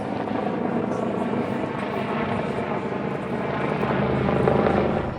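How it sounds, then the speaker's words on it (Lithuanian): A helicopter flies overhead near the Cairo Citadel military museum, its steady thudding rotor drone loud and continuous, swelling slightly toward the end. "iškart ir malūnsparnis skrenda"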